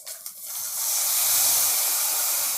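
Juice from a small lemon is squeezed into hot oil for kadle bele avalakki, bursting into a loud, steady sizzling hiss that swells after a few brief ticks and holds.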